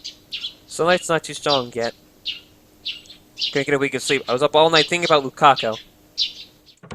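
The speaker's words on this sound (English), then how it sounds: "I hear the tweeting of birds outside the window." Birds chirp outside a window on an early summer morning in the Steins;Gate visual novel, with short tweets scattered through the scene and a voice talking over most of it.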